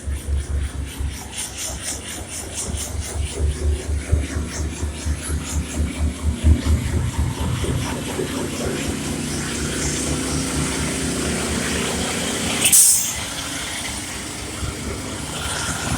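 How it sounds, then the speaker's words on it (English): A truck engine runs nearby with a low, pulsing rumble that settles into a steadier drone, broken by a brief sharp clank. "he's running the truck over there"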